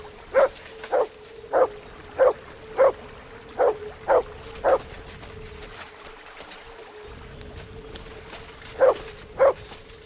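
The dog Mutt in Kingdom Come 2 barks in a steady run of about eight sharp barks, near and loud, then pauses before two more barks.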